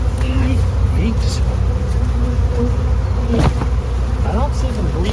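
A swarm of honeybees drones around a hive in a tree, a dense, steady buzz filling the whole scene with individual bees zipping close past now and then. Occasional voices murmur faintly underneath.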